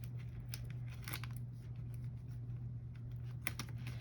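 Crinkly rustling, scraping and tearing at close range as a taped-down package of happy mail is pried open, with brief sharp clicks and snips over a steady low hum; no talking.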